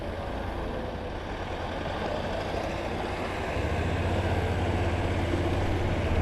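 A broken-down motorbike's engine runs with a dense, rough rumble that steps up louder partway through as the rider sets off.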